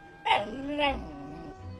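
A cartoon dog gives two quick barks, the first sharp and loud, the second a touch softer, each with a short yelping tail, followed by a low faint murmur.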